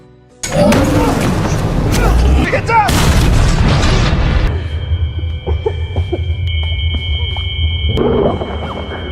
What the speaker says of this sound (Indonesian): si Jamie yang melihat para monster berdatangan pun berniat untuk meledakkan monster itu